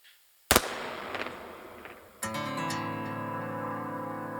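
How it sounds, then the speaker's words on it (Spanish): A gunshot sound effect in a podcast: one sharp, loud crack after a moment of silence, then a second bang a couple of seconds later that gives way to a sustained ringing tone. "un disparo quebró la paz idílica de mi refugio medieval"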